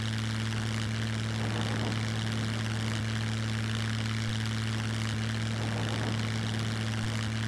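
A biplane engine drones steadily in flight in the survival video game SCUM, a continuous propeller hum with strong low tones and no breaks, loud and alone.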